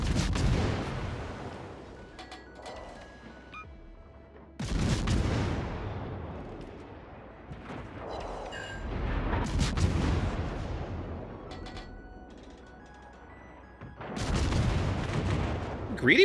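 Naval guns on the USS Worcester, a Tier X American cruiser in World of Warships, fire in heavy booming salvos: several loud blasts with long rumbling tails, spaced a few seconds apart.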